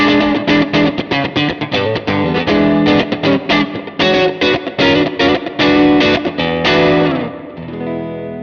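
A Line 6 Helix HX Stomp guitar patch with delay and reverb plays a driven, distorted electric guitar riff in choppy rhythmic bursts, ending on a sustained note that fades into the ambient tail.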